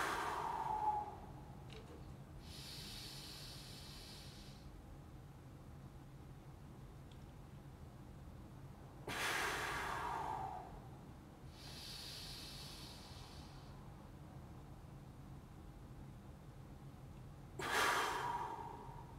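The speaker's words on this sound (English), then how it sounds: "I'm going to do another set of 3 breaths right here." Deep breaths during a breathing exercise in a full body workout: three slow, loud, hissing inhale-exhale bursts spaced several seconds apart, close to the microphone, with quiet breathing between.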